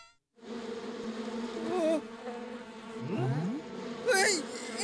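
A robot bee buzzes insistently and close, its droning hum wavering in pitch and swelling louder near the end, with brief voice-like sounds mixed in.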